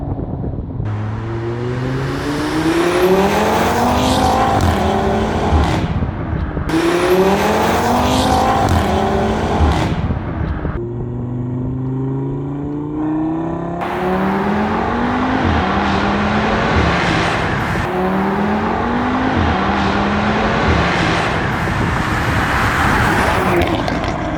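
A tuned Audi RS3 with a Shiftech 510 hp engine accelerates hard through several gears. The engine note climbs repeatedly and drops at each shift, loud and close, heard from inside the car.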